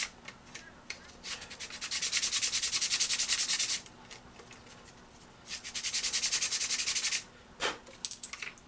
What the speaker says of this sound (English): just a little bit of sandpaper,